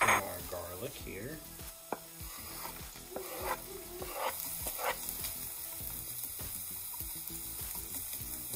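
Onions sizzle and crackle steadily in a frying pan as they are stirred and spread into an even layer, with scraping strokes and no talking, for a dish of calabacitas.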